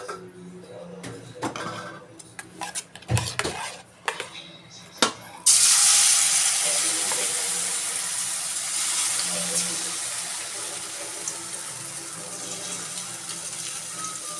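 Jowar flour bun dosa frying on a hot pan, giving a steady bright hiss after a few soft knocks and clatters, continuous and close throughout.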